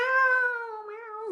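A person imitates a cat's meow as a quiz clue, a single drawn-out, clear, fairly loud vocal meow with a steady tone that dips slightly at the end.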